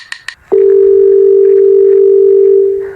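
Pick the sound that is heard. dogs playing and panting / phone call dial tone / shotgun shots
phone call dial tone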